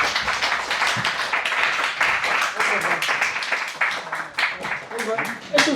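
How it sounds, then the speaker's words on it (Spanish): An audience applauds after a speaker at a talk, a dense, steady patter of many hands clapping for several seconds, mixed with voices talking through it. "Un aplauso, por favor"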